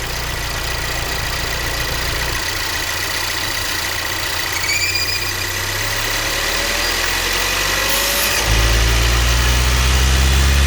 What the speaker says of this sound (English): it'll squeal for about 5 minutes until you take the oil cap off.